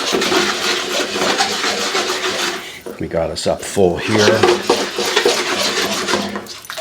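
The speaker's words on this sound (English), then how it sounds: "get my shrimp back in, get a little bit more of that pasta water in" Pasta water and shrimp go into a hot pan while cooking shrimp scampi outdoors, producing a loud sizzling hiss with scraping and clattering of utensils against the pan as someone talks over it.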